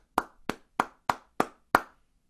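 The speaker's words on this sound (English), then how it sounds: "You shouldn't have clapped after that one" Six sharp claps ring out in an even, steady rhythm, crisp and fairly close in a quiet classroom, with nothing else heard between them.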